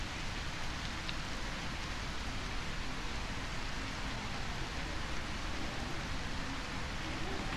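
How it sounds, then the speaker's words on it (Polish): Rain in the video game A Quiet Place: The Road Ahead, a steady, broad, even downpour hiss that runs without a break, with no voices over it. "jak jest deszcz, to deszcz jest najlepszym zagłuszaczem"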